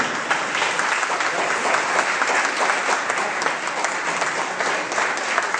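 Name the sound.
audience applause for Edgar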